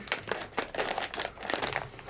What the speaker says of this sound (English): I'll use my scissors and open my bag.